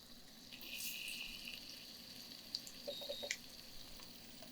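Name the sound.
spices sizzling in pan, asafoetida and cumin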